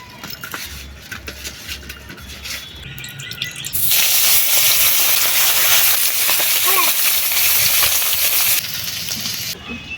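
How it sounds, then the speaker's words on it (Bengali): Fish frying in hot mustard oil in a pan, a steady broadband sizzle that swells loud for several seconds in the middle of an outdoor kitchen scene with faint background noises. "মাছগুলো সব ভাজা হয়ে গেছে"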